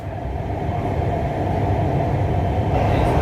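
Lahore Orange Line metro train running, a steady, loud low rumble and rolling hum of the carriage throughout, with no voices.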